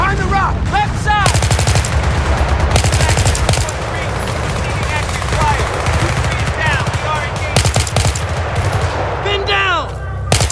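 Machine gun fire during an ambush in Battlefield 3, dense overlapping bursts and cracks of gunfire running continuously and loud throughout, with shouted voices mixed in.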